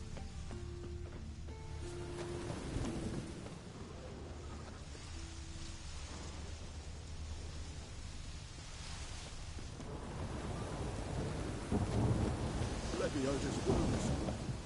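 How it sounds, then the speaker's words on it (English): A thunderstorm with rain in the video game Witcher 3, low rumbling thunder rolling under steady rain hiss, swelling louder toward the end, with faint voices beneath. "A storm, damn it."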